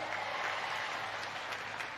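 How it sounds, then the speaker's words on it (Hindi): A crowd applauds at an outdoor political public meeting in Netrang, Gujarat, with steady clapping that stays fairly even and moderately loud for the whole two seconds. "तालियां बजा के स्वागत करेंगे फिर सबका"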